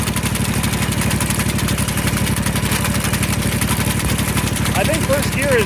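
A 2210 V-twin garden tractor running a Simplicity sickle mower in low gear, its engine giving a loud, steady, rapidly pulsing throb close by with mechanical clatter on top, and a voice briefly heard near the end.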